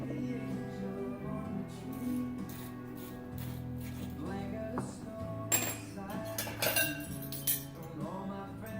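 A measuring spoon clinks faintly against a mixing bowl as salt goes in for cookie dough, giving a few light metallic taps in a quiet kitchen.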